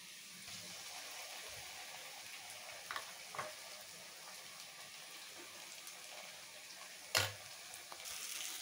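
Onions fry with ginger, garlic and chili paste in a pan, giving a soft, steady sizzle with a few light scrapes and clinks of stirring.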